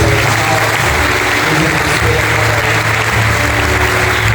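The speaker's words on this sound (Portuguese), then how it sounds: "Vamos aplaudir-nos com aquela coisa." Audience applause during a religious gathering on foot washing, loud, steady clapping from a crowd, dense and unbroken from start to finish with a faint murmur underneath.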